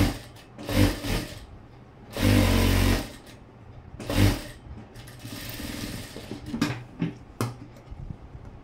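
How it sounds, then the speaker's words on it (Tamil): A sewing machine stitching a blouse runs in short loud bursts of rapid whirring stitches, separated by quieter pauses and small mechanical clicks, close up and with no talking. "இன்னொரு தையல் மறுபடியும் போடுறேன் எடை தையல்."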